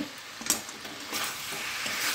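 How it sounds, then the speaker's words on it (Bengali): Cauliflower, fried potatoes and fried shrimp stirred together in spices in a village-style kitchen pan, giving a steady sizzling hiss with a few soft scraping strokes, close and continuous, with no talking. "মশলার সঙ্গে সমস্ত কিছু ভালো করে আমি নেড়ে নিয়েছি।"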